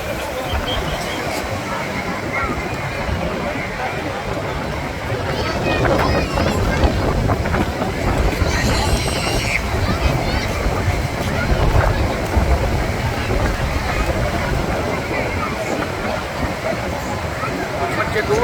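Sea waves wash along the Mumbai coast at Juhu beach as a continuous broadband surf wash, with wind buffeting the microphone. The surge swells in the middle and then steadies.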